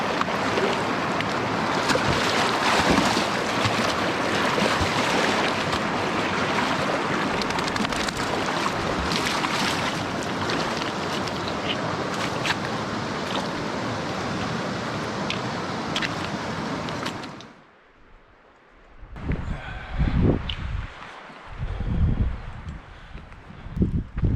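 Loud, steady wind roars and buffets the microphone for most of the clip, then drops suddenly before resuming in gusty bursts.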